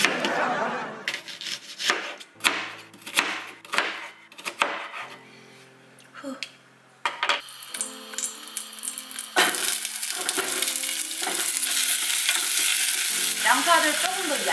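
Sliced onions cook slowly in a frying pan, with close clattering and scraping stirs in the first half, then a broad, steady sizzle that grows louder and fills the rest.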